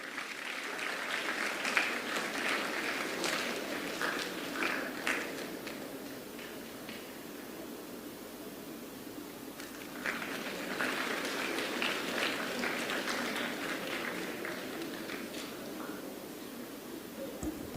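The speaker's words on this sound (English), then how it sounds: "Let us give him a big round of applause." An audience at an awards felicitation ceremony applauds for a steady stretch, a dense patter of many hands clapping at moderate volume, swelling again partway through.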